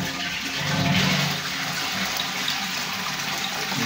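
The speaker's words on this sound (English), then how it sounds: "Okay, let's flush." A household toilet flushing in a bathroom under repair for a leak: a steady, close rush of water that swells in the first second and then settles into an even gushing flow.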